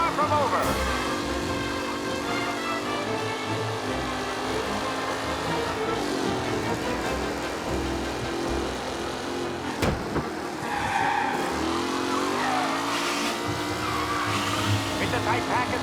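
Race cars roar and whine together in a tight pack in the Mafia Definitive Edition game, with engine drones rising and falling, tires squealing and skidding, over a music bed and a voice speaking.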